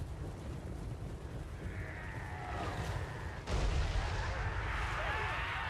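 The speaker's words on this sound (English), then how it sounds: "That's one of the things about the magma cannons is like the continuous damage that they cause." Chaos Dwarf magma cannons fire in a fantasy strategy game, a deep booming blast landing midway through over rumbling battle noise, with fiery crackles and whistling streaks around it.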